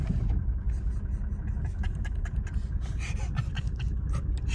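Mercedes W210 diesel engine fitted with a new hybrid turbo and 7.7mm injection, revving hard with a loud, rough roar and turbo rush, close and continuous with gritty rasping texture.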